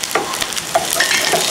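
Cashew nuts, raisins and coconut pieces fry together in a pan on low heat, giving a steady crackling sizzle with scattered stirring scrapes. The sound is close and continuous, with no one talking.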